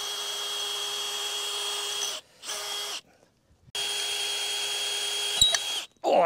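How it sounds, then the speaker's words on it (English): A power drill bores pre-drilled holes into barn rafters while framing a goat barn and chicken coop, loud steady whines broken by short pauses and a brief silence, then restarting. "So I got some holes pre-drilled,"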